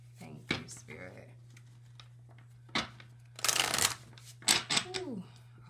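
Cards are shuffled in several quick riffling bursts, close and crisp, separated by pauses, over a low steady hum with a voice murmuring briefly.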